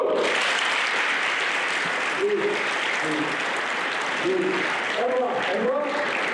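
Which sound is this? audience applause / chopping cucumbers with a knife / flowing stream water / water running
audience applause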